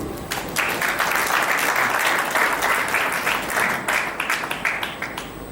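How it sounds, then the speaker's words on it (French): Audience applause at a company's 20th anniversary celebration in a French-speaking setting, a dense, steady roar of many hands clapping throughout, fairly loud and close with no speech over it. "Je vais donc demander à M. Honoré Malakani de bien vouloir s'avancer sous vos applaudissements, s'il vous plaît."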